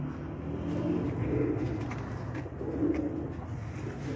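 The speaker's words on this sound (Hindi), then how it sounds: "चैंपियन कबूतर देखो 9 साल से चैंपियन लगातार वो" Teddy pigeons coo nearby in soft, rolling, low calls that repeat steadily and overlap, with no talking over them.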